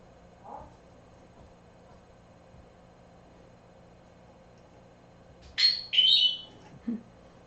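A small bird gives a brief, faint call early on, then a loud burst of sharp squawking chirps near the end, close by in an otherwise quiet indoor setting with no talking.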